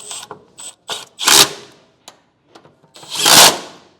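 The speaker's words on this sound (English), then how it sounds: "And now tighten all these down." A hand ratchet tightening bolts on the brackets of powered running boards being installed on a 2022 Toyota Tundra, heard as short bursts of rapid clicking separated by pauses, close and alone.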